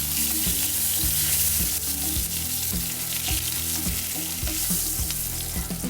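Cumin seeds and curry leaves roast in a pan with oil for oats upma, giving a loud, constant sizzle broken by repeated scraping stirs of a spoon.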